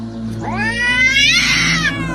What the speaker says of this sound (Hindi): एक काले बिल्ली।